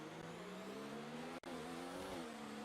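A Formula 1 race car in F1 2019 sliding at the rear at the Canadian GP, its engine droning steadily with a brief cut midway, no talk over it.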